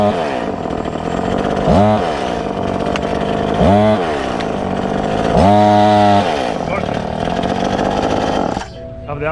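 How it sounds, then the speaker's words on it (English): A chainsaw cuts bamboo up close, loud and continuous, its engine revving up sharply three times between steadier idling stretches before it drops off at the end. "a chainsaw?"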